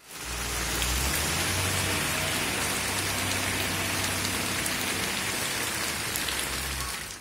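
Heavy unseasonal rain pours down in Visakhapatnam, Andhra Pradesh, in a dense, steady roar, loud and continuous with no voices.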